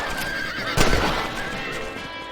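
A horse in the Red Dead Redemption video game whinnies loudly, with hooves clip-clopping and a burst of game sound effects around it, and no voices heard.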